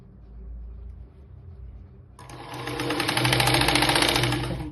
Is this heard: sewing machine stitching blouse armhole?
yes